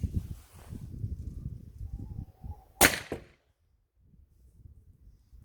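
An Umarex Glock 17 Gen5 PAK blank pistol fitted with a suppressor fires a single muffled shot, a short sharp crack with a brief tail. Rustling and handling noise come before it, then quiet.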